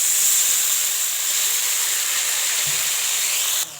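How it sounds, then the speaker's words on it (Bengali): Water poured into a hot pan of tengra fish curry bursts into a loud, broad steamy hiss that holds steady for a few seconds and then drops off sharply at the end, close and with no talking. "এবারে জল দিয়ে দেবো"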